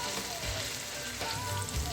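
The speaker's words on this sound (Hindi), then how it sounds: "लहसुन को चंद सेकंड के लिए मैंने फ्राई होने दिया है" Ginger garlic paste frying in hot oil, a dense, even sizzle heard close up for a couple of seconds with a few stirring scrapes.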